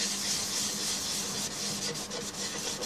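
Sanding sealer being rubbed by hand onto a turned larch wood bowl, a close, steady dry rubbing and scuffing with faint rhythmic strokes, no voices.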